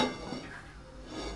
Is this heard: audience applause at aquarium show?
no